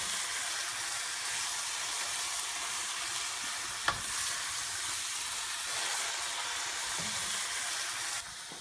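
Thai green curry with chicken sizzles steadily in a hot pan while being stirred, a constant bright frying hiss with a soft scrape or clink of the utensil partway through.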